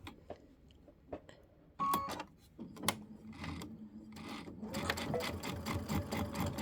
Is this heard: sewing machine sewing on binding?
yes